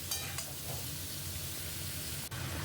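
Cauliflower and radish pieces frying in oil with garlic give a steady, close sizzle that hisses evenly throughout, with a faint clink near the start and no voices.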